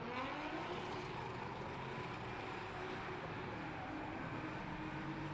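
Drift cars starting their run on a race circuit at a French drift championship, heard as a steady, distant roar of engines blended with broad noise, with no clear revving peaks or passes standing out.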